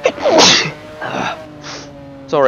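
A single sharp sneeze bursts out near the start, followed by a few short spoken words and a second breathy burst, close and loud.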